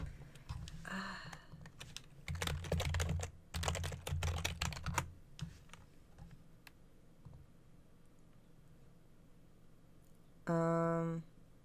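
Rapid clicks from a computer keyboard come in several close bursts of typing, fading to sparse taps, with a brief electronic tone near the end and faint conversation in the background.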